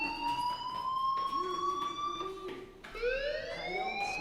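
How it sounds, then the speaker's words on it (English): An alarm sounds in the video game Life is Strange Remastered, a steady tone with sweeping harmonics that climb and restart midway, with game ambience beneath and no speech. "do you hear that fire alarm? That means you should be outside."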